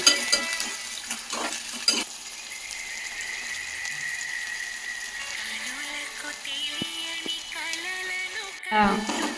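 Onions frying for a spicy chicken fry are stirred in a pan, a soft sizzle with a few scraping strokes and light metal clinks near the start and end, plus a faint tonal hum running under it.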